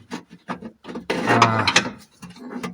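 A ratchet tightens a sway bar bolt on an Alfa Romeo suspension, with short clicking bursts followed by a longer run of rapid ratcheting, close and fairly loud.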